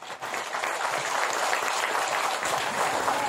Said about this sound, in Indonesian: tepuk tangan Bu, Pak.